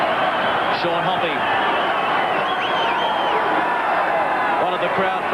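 A rugby league crowd at Ericsson Stadium roars steadily for former All Black Mark Ellis as he comes on as a substitute, with dense cheering and clapping sustained throughout. A commentator talks over the noise.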